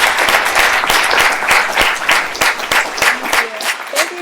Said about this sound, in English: Round of applause for Lee